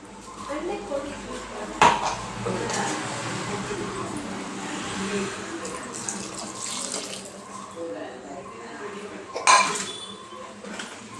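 Spinach cooking water is poured into a pan of palak gravy, a steady watery splash with a couple of sharp clinks of metal cookware near the start and again toward the end.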